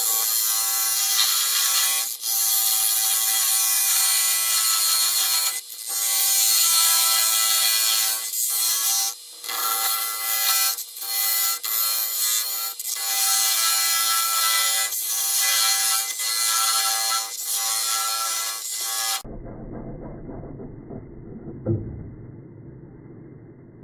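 A segmented cherry and spalted maple wooden box being sawn off, a loud, continuous rasping cut with brief dips and pauses that stops near the end, leaving a quiet, faint room tone.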